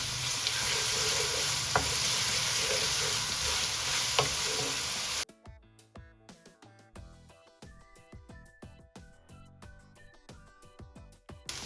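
Onions with garlic ginger paste fry in hot oil for a keema recipe, a loud steady sizzle with occasional stirring clinks for about five seconds, then the frying drops away to quieter scattered scraping and tapping sounds.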